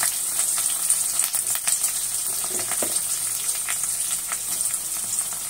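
Curry leaves drop into hot oil with frying onions for a masala curry, raising a steady, close, hissing sizzle with faint crackles throughout and no talking.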